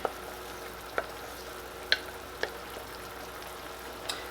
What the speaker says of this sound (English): I'm going to add in all of our spinach in there.